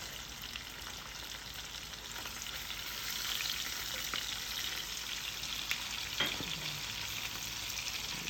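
Garlic sizzles and fries in a pan for a spicy clam linguine sauce, a steady close crackling hiss with occasional stirring clicks, growing slightly louder partway through.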